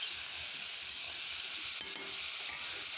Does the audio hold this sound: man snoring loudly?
no